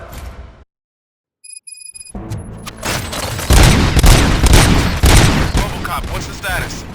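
Gunfire in the video game Robocop: Rogue City. After a brief silence, loud overlapping shots and booms break out into a dense, sustained fusillade with heavy impacts, close and continuous to the end.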